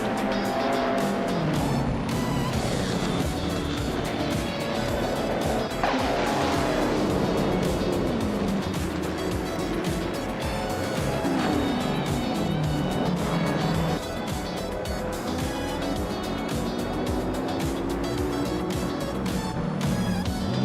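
Race cars roar continuously in a racing video game, engines revving and shifting with tire squeals and cars passing by, loud and dense throughout with no pauses.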